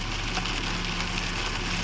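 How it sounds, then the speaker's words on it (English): Rain and water falling on a car, a steady close patter of drops on the body and glass with a low constant hum underneath. "It's rain and water."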